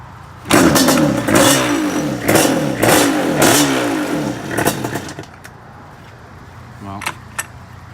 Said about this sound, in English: Let's see if we can't just kick this thing over.